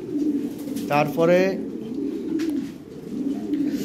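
Lahori Shirazi pigeons coo in a low, continuous murmur nearby while someone briefly speaks over them.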